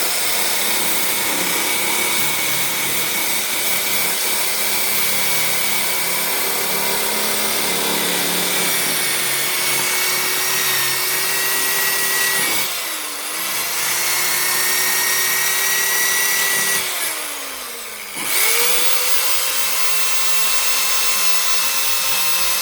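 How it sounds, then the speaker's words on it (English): A power drill runs steadily with a gritty, scraping whine as a wire brush grinds on metal on a Daewoo Matiz car, pausing briefly twice before revving again. "I think I'm going to actually attack it with a wire brush and a drill"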